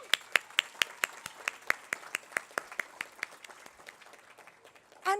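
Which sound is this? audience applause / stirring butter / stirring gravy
audience applause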